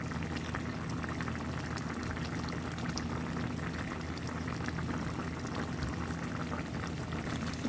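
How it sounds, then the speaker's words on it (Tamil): A thick chicken curry bubbles and simmers steadily in a pot, a continuous close-up gurgling with no talking. "இப்போ பார்த்தீங்கன்னா நல்லா கறி கொதிச்சிட்ருக்கு."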